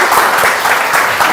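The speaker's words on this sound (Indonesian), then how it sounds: "Tepuk tangan dulu dong." Loud, close applause from a gathering of a motorcycle community of NMax and Aerox riders, a brief burst of dense clapping that fills the whole moment.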